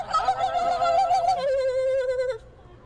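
A person imitates a turkey gobble, a quick warbling vocal trill followed by a sustained wavering call lasting about two seconds, close and loud, then cutting off.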